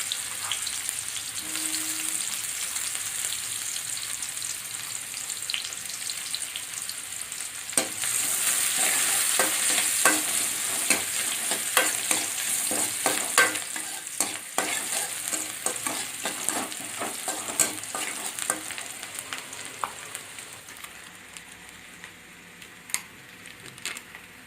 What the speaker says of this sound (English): Added the chopped onions also.